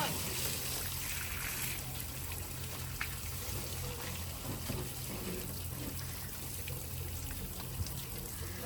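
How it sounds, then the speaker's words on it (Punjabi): Water runs steadily while a black Mahindra Scorpio Classic is washed. A constant hissing, splashing wash sits at an even level throughout, with occasional small knocks and faint voices in the background. "ਵੱਜ ਰਿਹਾ ਪਾਣੀ ਜੀ ਪੂਰਾ"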